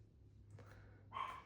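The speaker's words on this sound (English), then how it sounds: "Her bark is so intimidating." A single dog bark, sharp but faint and distant in a quiet indoor room, after a stretch of low steady hum.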